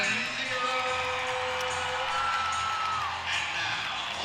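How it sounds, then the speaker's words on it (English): A crowd at a college gymnastics meet, SEMO at Arkansas, cheers and whoops after a balance beam routine. The roar stays steady and fairly loud beneath a commentator's voice. "Big reaction you hear from the crowd in the background."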